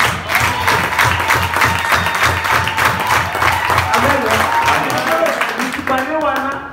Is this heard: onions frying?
no